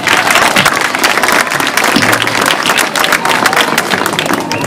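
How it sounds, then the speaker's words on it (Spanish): A crowd at a neighborhood committee swearing-in ceremony in Mexico gives a strong round of applause: dense, steady clapping that stays loud and close for several seconds without a break. "Un fuerte aplauso para él."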